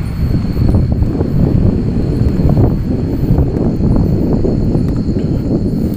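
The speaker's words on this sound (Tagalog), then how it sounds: "Medyo malakas yung hangin guys." Heavy wind buffets the microphone nonstop, a loud, low, rumbling roar that fills the whole stretch.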